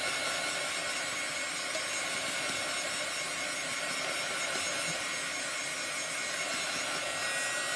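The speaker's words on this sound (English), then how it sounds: "when we use this heat gun" A heat gun blows a steady, loud broadband whoosh over chalk paste on a Vintage Seeds stencil project, unbroken for the whole stretch with no talking.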